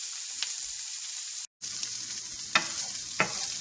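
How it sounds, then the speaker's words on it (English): Vegetables and ground beef fry in a pan for dirty rice, a constant close hiss and crackle with a brief dropout partway and a couple of stirring scrapes, no voice. "So our veggies have been cooking for about 10 to 15 minutes."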